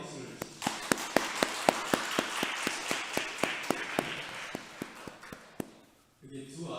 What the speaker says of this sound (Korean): 환영의 박수를 주십시오.